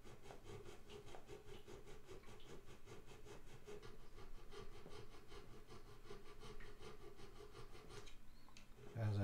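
Guitar frets being filed by hand, a quiet, rhythmic rasping of metal strokes going back and forth in an even, repeated pattern for the whole stretch.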